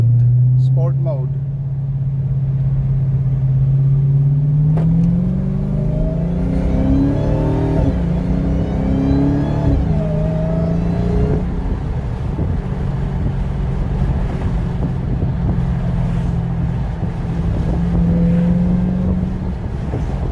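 A 2021 Dodge Charger Hellcat Widebody with a JLT cold air intake accelerates in manual sport mode with windows open, the engine roaring as revs climb and shift repeatedly, under heavy wind buffeting and a rising supercharger whine.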